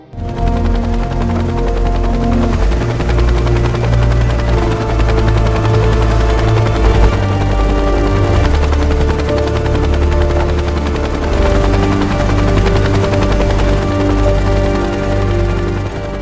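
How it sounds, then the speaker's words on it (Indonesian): A helicopter in an action film, its loud, steady rotor roar and whine filling the scene without a break, with dense low thumping throughout and no voices. "Lalu Ben dan Hastings diantar ke bandara dengan menggunakan helikopter."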